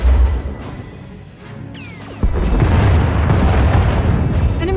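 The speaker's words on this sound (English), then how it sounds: "Enemy is firing. Turbo lasers, missiles, and what looks like transport pods." Turbolaser and missile fire from a Thranta-class warship in SWTOR, loud booming blasts and rumbling explosions with a sharp impact partway through, followed by sustained heavy roaring bursts.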